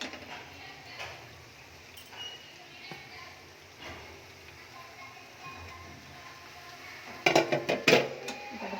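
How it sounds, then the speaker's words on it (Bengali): Boiled cabbage stirred in a hot kadai for khichuri: soft scraping and a few sharp metallic clanks of the spoon against the pan toward the end, under someone talking. "ধরি নাহলে কড়াটা নড়বে আর গরম, ভালো করে এটা নেড়ে চেড়ে নিই"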